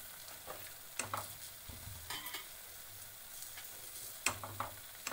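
Khoa (mawa) roasting and being stirred in a pan while making sesame and mawa laddoos, with a quiet steady sizzle and intermittent scraping strokes of the spoon, close and moderately faint.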